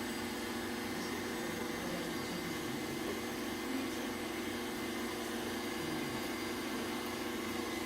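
An electric stand mixer beats cake batter at a slow speed, giving a steady, even motor whir throughout with no talking.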